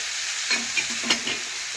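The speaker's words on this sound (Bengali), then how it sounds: "এখন দিলাম আমি আদা, জিরে, কাঁচা লঙ্কা বাটা। এটাও ভালোভাবে মিশিয়ে একটু কষে নেব।" Ginger, cumin and green chili paste stirred in a frying pan, a soft steady sizzle with a few light scraping strokes of the spoon, fairly quiet and close.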